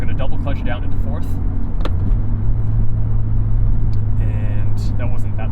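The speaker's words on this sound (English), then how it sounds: "I'm going to double clutch down into fourth." Manual-transmission car double-clutching down into fourth gear: a steady low engine drone with a rev change partway through, heard from inside the cabin with brief mechanical clicks and a voice talking over it.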